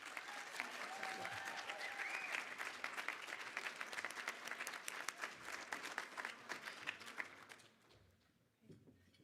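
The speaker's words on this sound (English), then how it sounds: "Please give these outstanding students another round of applause." A banquet audience at a student leadership recognition event applauds outstanding students with a long, full round of clapping that fades out near the end, leaving near silence.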